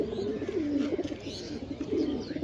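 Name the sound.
pigeon cooing in loft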